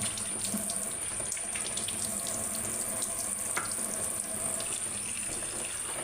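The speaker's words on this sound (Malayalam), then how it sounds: "ഈ പുളി നല്ലവണ്ണം ഒന്ന് കഴുകി" Tamarind is washed for a Kerala fish curry under water that runs and splashes steadily at close range, with soft trickling throughout and no voices.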